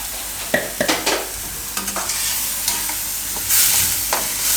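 Stirring of a paneer and broccoli gravy in a pan, soft spoon scrapes and clacks in a loose irregular rhythm over a low steady sizzle, close and moderately loud with no voices.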